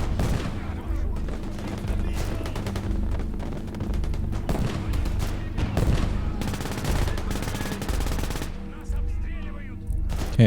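Sustained WWII-era gunfire in the Gates of Hell: Liberation battle game, with an MG42 machine gun among dense, continuous bursts and booms, loud throughout.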